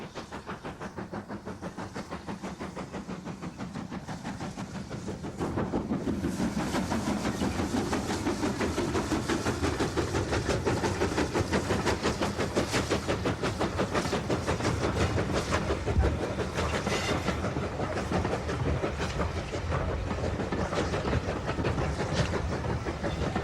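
Great Western steam locomotive 5619 hauling green Southern Region-style coaches on the Isle of Purbeck railway, a steady rumbling run with rhythmic clickety-clack and hiss that grows louder and denser partway through, no voices.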